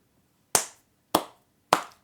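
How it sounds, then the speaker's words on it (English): Three separate sharp hand claps ring out close by, evenly spaced about half a second apart, each a crisp slap that fades quickly into silence. "Everybody, round of applause."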